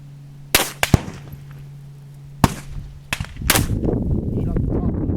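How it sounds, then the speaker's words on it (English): Handgun shots fired during a first shooting lesson: sharp, loud, close cracks, a tight pair then singles spaced apart, a faint steady hum between them and brief voices near the end. "go ahead and shoot it to pieces until it locks back and you're out"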